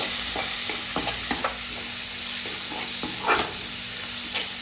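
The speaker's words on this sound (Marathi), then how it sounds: "आणि कांदा चांगला परतून घ्यायचा आणि नंतर लास्टला आपण टाकणार आहे टोमॅटो." Onion and tomato sauté in a pan with a constant close sizzle. Frequent quick spatula scrapes and taps stir through it in an uneven rhythm, with no speech.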